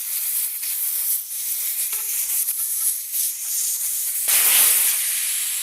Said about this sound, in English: now once you get this valve out, it'll drain fairly quickly